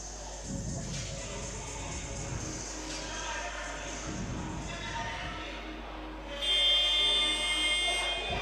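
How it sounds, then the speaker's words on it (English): Loud electronic buzzer sounds at an NBL1 basketball game between Loughborough Riders and Leicester Warriors, a sustained harsh tone cutting in over steady crowd and arena noise. "Buzzer sounds."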